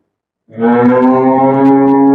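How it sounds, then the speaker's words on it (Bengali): A single cow on a dairy farm lets out one loud, close, drawn-out moo that starts abruptly and holds steady to the end, with no talk. "দর্শক দেখুন ভাই আমার খামারে অনেক উন্নত গরু"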